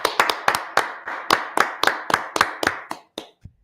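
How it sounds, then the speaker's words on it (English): At a church Brotherhood class, hands clap about a dozen times in a steady, sharp rhythm close by. The claps slow and fade toward the end, with no talking. "Clap it up for the Lord."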